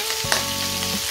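Meat frying in a pan as it browns in its own rendered fat while pinakbet is cooked, a steady close sizzle with a faint clink or stir partway through, and no talk.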